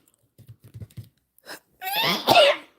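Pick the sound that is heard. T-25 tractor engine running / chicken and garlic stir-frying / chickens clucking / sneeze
sneeze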